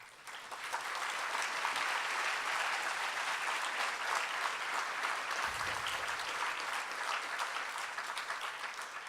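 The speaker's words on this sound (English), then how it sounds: "I would like to get applause for all of our students who are being honored." An audience at a lecture event on health and human rights applauds honored students, steady dense clapping that rises quickly and holds at an even level for several seconds.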